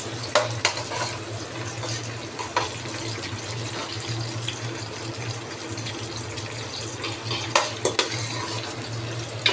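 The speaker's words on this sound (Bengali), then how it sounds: "এর মধ্যে দিয়ে দিচ্ছি পেঁয়াজ কুচি," Chopped onion fries in mustard oil with a continuous crackling sizzle, punctuated by occasional clinks and knocks of utensils against the pot, heard close and without speech.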